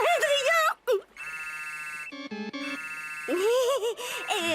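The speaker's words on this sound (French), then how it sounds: "c'est Adrien qui m'appelle sur mon portable" A mobile phone rings with a melodic, tonal ringtone pattern, mixed with cartoon dialogue and music around it; the ringing sits in the middle of the clip, fairly loud and close.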